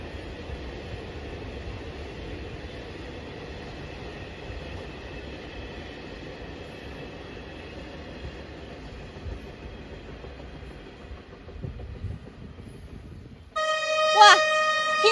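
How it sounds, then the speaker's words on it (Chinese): An electric freight train hauled by two locomotives rumbles steadily past on the Yingtan–Xiamen railway among the mountains of the Jiangxi–Fujian border, then gives a loud, sustained horn blast near the end. "哇，听听汽笛声，火车又驶过来了。"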